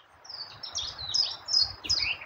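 Several birds chirp high up in the trees, bright overlapping tweets and calls coming in quick bursts over a soft, low rustling background, moderately close and steady.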